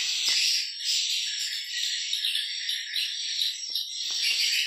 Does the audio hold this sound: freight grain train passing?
no